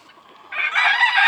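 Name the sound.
White Polish chicken clucking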